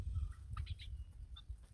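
Chickens and roosters on a small farm, with soft clucks and brief calls scattered over a low, steady background rumble, close by and fairly quiet.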